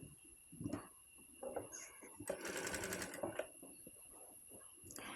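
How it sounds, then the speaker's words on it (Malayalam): Sewing machine running stitches along a fabric edge while a silk pavada skirt and top are made for a baby, a steady mechanical whir in bursts with a louder stretch in the middle, close and moderately loud. "അതിന് ശേഷം ഇതിൻ്റെ അരികു വശം നമുക്കൊരു 4 ഇഞ്ച് ഗ്യാപ്പിൽ ഇതുപോലെ ഒന്ന് സ്റ്റിച്ച് ചെയ്തെടുക്കാം കേട്ടോ"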